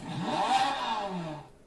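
An AI voice imitates a car engine, producing a short revving, rising-and-falling engine-like burst that fades out after about a second and a half.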